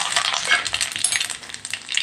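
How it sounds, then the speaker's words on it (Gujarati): Curry leaves crackle and spit in hot oil with mustard seeds and cumin, a tempering for dhokla. The sizzle is dense, bright and steady, close up, and no one speaks. "અહીંયા પછી મીઠા લીમડાના પાન ઉમેરી દઈશું"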